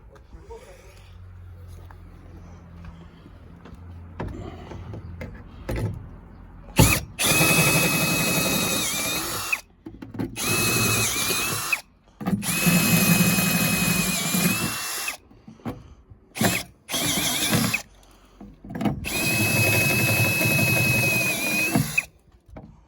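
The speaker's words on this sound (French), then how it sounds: "on prépare les trous là pour pouvoir placer l'open air" Power drill boring holes through the roof of a Renault Twingo to fit a sunroof, loud whining bursts started and stopped repeatedly with short pauses, while someone talks quietly between runs.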